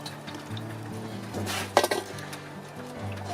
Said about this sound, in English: Put the horribly dirty cooking surface on